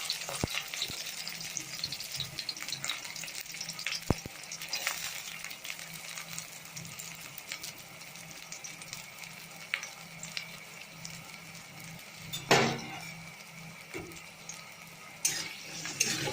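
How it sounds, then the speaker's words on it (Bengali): Garlic and onion frying in hot oil, giving a constant close sizzle with occasional stirring scrapes and a few sharp clinks of a utensil against the pan. "গরম হওয়ার পর এর মধ্যে দিয়ে দেবো রসুন, দিয়ে দেবো পেঁয়াজ"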